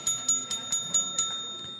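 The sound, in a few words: bell ringing on a sports radio show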